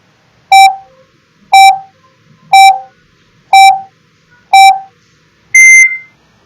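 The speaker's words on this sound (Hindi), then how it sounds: "तो मैं टाइमर ऑन कर रहा हूं।" Five crisp, identical electronic beeps sound at one-second intervals from a quiz countdown timer, followed by a distinct, longer closing tone at a higher pitch, with nothing else heard.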